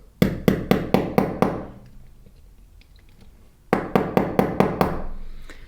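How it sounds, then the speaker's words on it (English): Two quick runs of about five or six sharp metallic taps from a small hammer pushing a pin into a metal watch band, close and crisp, separated by a quiet pause. "now I'm going to use the small hammer in order to push the pin downwards"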